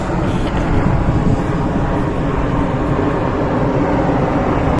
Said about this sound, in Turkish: Merhaba uçak.